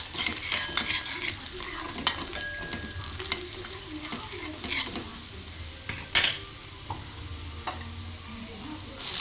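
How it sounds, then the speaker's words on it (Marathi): Garlic and asafoetida fry in oil in a pan and are stirred, making a continuous soft sizzle broken by scraping and metallic clinks of the spoon against the pan, with one louder clatter midway. "लसूण छान फ्राय होतोय, त्यात थोडासा हिंग घालते आणि एकदा छान हलवून घेते परत"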